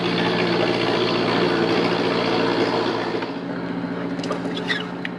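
A repaired Yamaha F70 outboard motor runs at a steady idle during its first start, giving a close, even mechanical drone that eases slightly toward the end as faint clicks and handling sounds appear.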